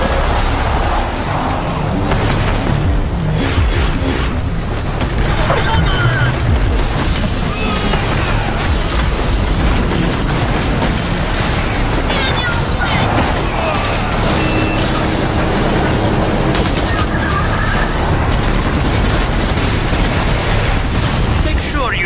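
Explosions and gunfire from a convoy assault in the Rage 2 video game, a dense, loud, continuous barrage of blasts and shots with a voice over it.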